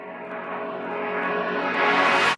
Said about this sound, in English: I reversed that horn sound I just showed you, that stab, and now it sounds like this.